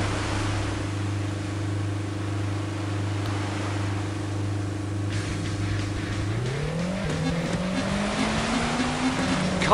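Rally car engine drones steadily in an audio racing video game, then revs climb and tires squeal as the car accelerates, loud and continuous.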